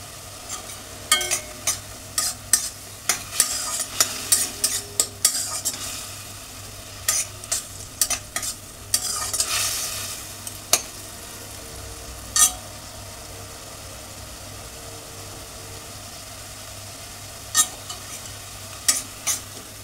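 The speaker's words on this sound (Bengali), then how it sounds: "ঝিঙের থেকে জলটা বেরোয়, এটা শুকনো পর্যন্ত আমরা একটু ওয়েট করব" Ridge gourd cooking down in a pan until dry, with repeated scraping and stirring strokes of a spoon in irregular bursts over a faint, steady background hum.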